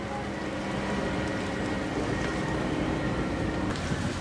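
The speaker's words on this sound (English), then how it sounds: "Engine is running." Houseboat engine running on a Sri Lankan river, a steady low droning rumble mixed with water and wind noise that holds constant throughout, with no speech.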